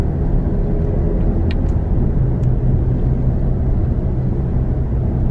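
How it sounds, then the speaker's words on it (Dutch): A single car passing along an otherwise quiet office-district street at the Zuidas in Amsterdam on a Monday, a steady close engine and tyre rumble filling the whole stretch, with a couple of faint clicks above it. "En nu rijdt er een enkele auto."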